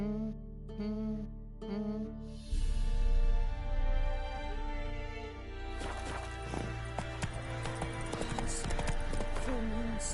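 A horse's hooves clip-clop as the horse speeds into a gallop in the video game Witcher 3, a steady drumming rhythm that comes in partway through, with sustained music tones underneath.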